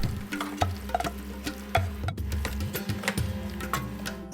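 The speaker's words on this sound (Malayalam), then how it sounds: "ഇനി ചിക്കൻ മസാല കുക്കറിലേക്ക് ഇട്ട് കൊടുക്കാം." Chicken masala for a biryani is tipped and stirred into a pressure cooker, giving loud, close scraping, clinking and sizzling stir noises in an irregular rhythm with a steady hum underneath and no talking.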